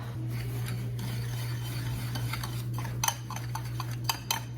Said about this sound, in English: we're gonna stir this up